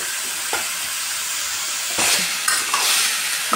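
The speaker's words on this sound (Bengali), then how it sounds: "এখন ভালো করে নাড়াচাড়া করে নিচ্ছি" Boiled banana flower with potato and spices is stirred in hot oil for Bengali mochar ghonto, a close steady sizzle broken by several scraping stirs of the spatula, no voices.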